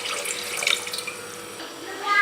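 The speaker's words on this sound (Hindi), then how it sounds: "देचकी में पानी डाल देंगे" Water pours from a tap or vessel into a cooking pot on a stove while sugar syrup for almond sharbat is being prepared, a steady broadband splashing rush running close and continuous throughout.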